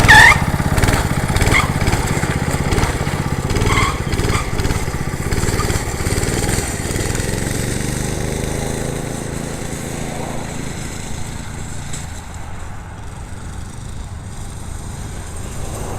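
A small go-kart engine runs with a buzzing, mower-like drone, loud at first and then gradually fading and quieting toward the end.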